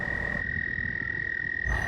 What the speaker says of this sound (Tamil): அந்த ஆற்றுக்கிட்டேயோ இல்லை அங்கே அந்த தவளைங்களோட அந்த சத்தம், குருவிங்களோட சத்தம் அதெல்லாம் கேட்கும்.